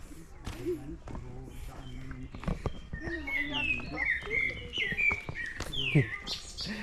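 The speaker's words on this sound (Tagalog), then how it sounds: "Bird song." Songbirds chirp and whistle in bursts near a coastal spot on Dubrovnik island, with quick overlapping calls, footsteps and faint background voices underneath.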